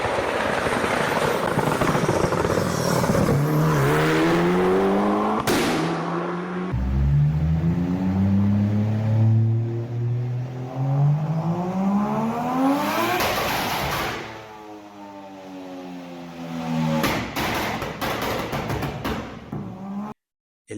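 A turbocharged race car engine revving hard and then backing off, with loud popping backfire explosions as the driver lifts off the accelerator, several rising and falling engine sweeps close by, with no talk.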